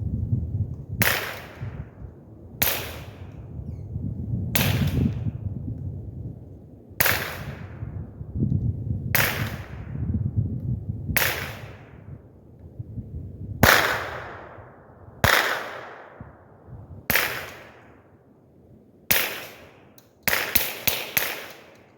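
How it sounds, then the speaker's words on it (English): Eleven .22LR rifle shots through a Blast Forward muzzle brake at about 100 yards, each a sharp crack with a short decaying tail, spaced roughly two seconds apart, then a quick final cluster of several shots, loud over faint low background. "you can hear the bullet cracking, and then you can also hear the gun blast"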